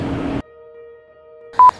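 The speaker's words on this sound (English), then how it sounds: "That's your alarm. That is my alarm." A phone alarm goes off as two short, sharp electronic beeps near the end, following a faint sustained tone and a brief burst of noise at the start.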